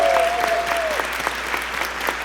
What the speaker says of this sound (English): please give a round of applause to Stefano Laverso and Mary Irie